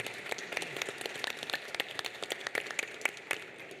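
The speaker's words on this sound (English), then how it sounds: "Join me in giving my panel, my distinguished panel, a round of applause." A conference audience gives a light, scattered round of applause for a distinguished panel, with individual claps heard faintly and unevenly for a few seconds.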